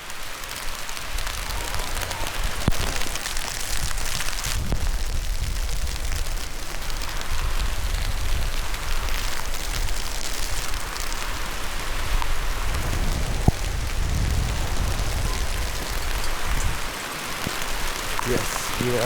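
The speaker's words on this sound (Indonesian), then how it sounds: "kita bersama-sama menembus hujan dengan jas hujan ini" Steady rain pours down on trekkers wearing raincoats outdoors, a dense, continuous hiss of drops with occasional louder patters and taps close by, no talk.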